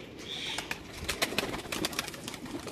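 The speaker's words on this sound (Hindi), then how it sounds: "ये बहुत ही शानदार कबूतर हैं।" Rooftop pigeons cooing softly over ambient noise, with a few sharper clicks and possible wing flutters scattered through the stretch.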